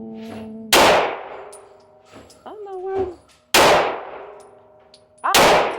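Gunshots strike steel targets at an outdoor shooting range in sunshine and snow: three sharp impacts, each ringing out with a long metallic decay, with a voice muttering faintly between them.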